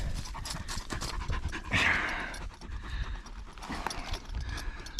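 A dog pants quickly and steadily up close, with a brief rustle partway through.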